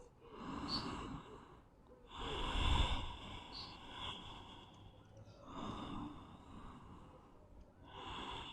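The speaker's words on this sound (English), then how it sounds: "Taking big breaths here, imagining all the oxygen that you're breathing going straight into the hips" Slow, deep breaths during a yoga hip-opening practice, close and soft, in several long airy inhale and exhale waves spaced a couple of seconds apart, with no talking.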